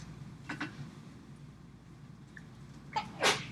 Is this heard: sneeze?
yes